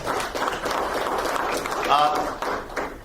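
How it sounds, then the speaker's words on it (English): An audience in a room applauds a World War II veteran who landed on Utah Beach, a brief burst of clapping with a voice speaking over it. "Warren Goss deserves a round of applause"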